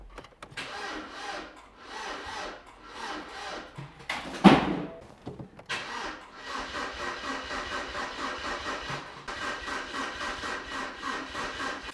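BMW E92 320i engine cranking on the starter with the fuel pump fuses pulled, so it never fires; rhythmic churning bursts in two runs broken by a sharp clunk, moderately loud and close, no talking.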